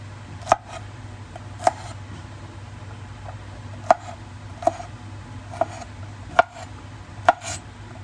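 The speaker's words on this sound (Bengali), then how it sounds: "দেখুন আমি বিনসগুলো কেমন করে বেঁকিয়ে বেঁকিয়ে কেটে নিচ্ছি" Green beans cut on a board with a kitchen knife: sharp, separate chopping knocks at an irregular, unhurried pace, about eight close strokes over a low steady background hum, without any talking.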